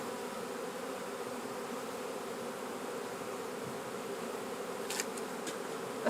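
Steady insect buzzing at moderate level with no one talking, dense droning of many honeybees around a hive, with a few brief sharper sounds near the end.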